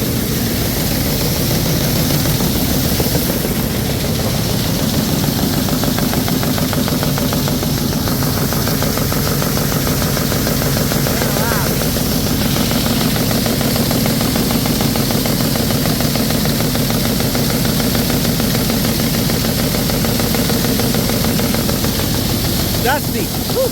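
A tractor runs with its PTO engaged, giving off a steady, loud mechanical drone and hum that holds constant throughout, with a voice heard over it at times.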